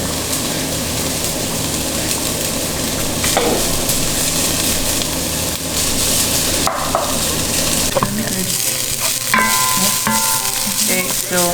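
Shallots fry in a pan with a steady, close sizzle that runs throughout, while a utensil stirs and scrapes in bursts, with a few clinks toward the end.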